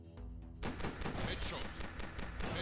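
Rapid gunfire in the video game Prohibition 1930, a dense burst of repeated shots starting abruptly after a short lead-in and continuing loudly to the end.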